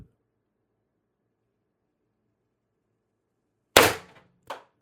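A single sharp crack of a CO2 airgun fired from a 4x12g CO2 stock build, close and loud after a long silence, followed by two fainter short clicks or pops.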